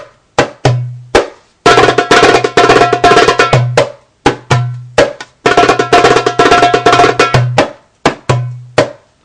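A darbuka plays an interrupted roll in a maqsum rhythm, loud close strokes alternating with rapid rolled bursts, the pattern repeating twice with crisp doum and tek hits between.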